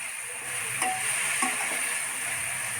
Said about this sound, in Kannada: ಸ್ವಲ್ಪ ಉಪ್ಪು, ಏಡಿ ಇಷ್ಟನ್ನು ಹಾಕ್ಬಿಟ್ಟು ಫ್ರೈ ಮಾಡ್ಕೊಳ್ಳೋಣ